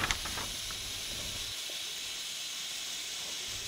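Steam locomotive 94-1538, fired up in the evening by Rennsteigbahn crew and under steam for the first time since its 2011 retirement, gives a steady, loud hiss of escaping steam throughout, with a couple of brief knocks at the very start.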